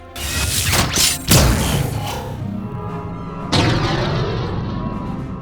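A sci-fi super cannon built from scrap fires blasts: a loud booming whoosh swells and crashes near the start, followed by a second heavy blast with a long ringing tail.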